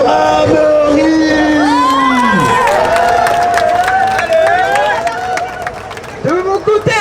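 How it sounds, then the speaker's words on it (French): A crowd at the Beyblade Burst national final at Japan Expo cheers and whoops, with children's shouts and a few claps, while an announcer speaks over it. "Un maximum d'applaudissements pour Amaury"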